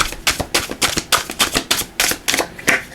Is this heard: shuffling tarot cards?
yes